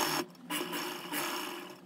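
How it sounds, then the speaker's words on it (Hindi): A sewing machine runs steady and faint while stitching the stand collar of a kurti, with a continuous whirring hum that dips briefly twice. "यहीं से सिलाई लगाना स्टार्ट करेंगे"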